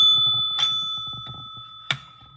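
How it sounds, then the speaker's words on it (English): A small bell rings in two sharp, bright strikes with sustained ringing tones, loud and close, while a low voice murmurs faintly underneath. "I have a new bell, by the way. You know, I like the triple bell."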